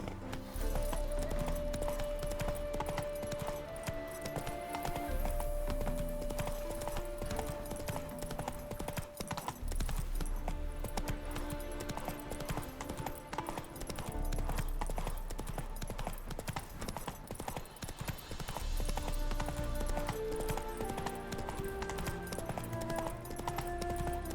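Horse hooves galloping in The Witcher 3 video game, a steady rapid clip-clop rhythm continuing throughout under game music, moderately quiet with occasional brief speech.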